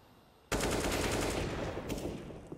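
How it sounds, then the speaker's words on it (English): A sudden burst of rapid AK rifle fire in Counter-Strike, loud and continuous automatic shots that start abruptly and keep going to the end. "that AK's been shot really far away"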